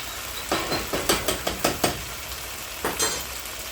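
Onions cooking in a pan for taco spring rolls, stirred with a utensil in a quick run of scraping strokes over a faint sizzle, then a short pause and two more strokes.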